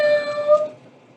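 A single drawn-out cat meow, clear and close, with a bright tonal cry that fades into quiet room noise.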